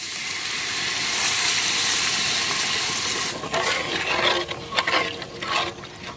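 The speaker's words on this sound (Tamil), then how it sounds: "2 லிட்டர் தண்ணி சேர்த்துக்கலாம்" Water pours into a pot of mushroom masala spiced with chilli powder and pepper-cumin powder, a steady broadband rush for about three seconds, then turning into choppier splashing and sloshing.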